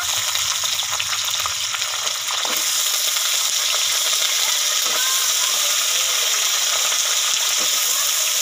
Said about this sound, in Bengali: ছোলা বাদামগুলোকে আমি হালকা করে ভেজে নিয়েছি তারপরেই আলুগুলো দিচ্ছি